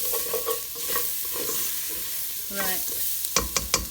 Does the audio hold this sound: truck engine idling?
no